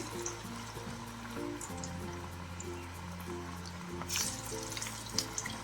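Onion pakoda batter frying in hot oil, a steady close sizzle and bubbling that holds throughout, with a low tonal hum underneath and a few brief splashy bursts near the end.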